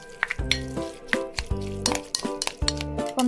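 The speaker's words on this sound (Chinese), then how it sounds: "搅拌。" A utensil stirring and scraping dog food mixed with fish oil, probiotics and mushroom powder in a bowl, with a series of sharp clinks and scrapes in an uneven rhythm, close and fairly clear.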